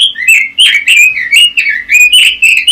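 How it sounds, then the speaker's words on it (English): A New Zealand robin sings a run of bright, high chirps and warbled whistles, close and loud, in quick uneven phrases with short gaps throughout. "New Zealand robins."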